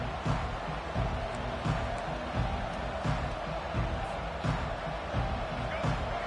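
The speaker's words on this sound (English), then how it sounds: "This crowd, full throat, splitting the eardrums" Stadium crowd roaring in the College Football 25 video game, a dense sustained cheer with periodic thumps, under a play-by-play commentator's voice.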